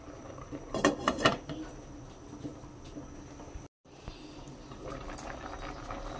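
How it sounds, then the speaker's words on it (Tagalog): A metal lid set back onto a cooking pot in a home kitchen, a quick cluster of clanks early on, followed by quieter kitchen rustle and faint background noise. "Takpan ulit."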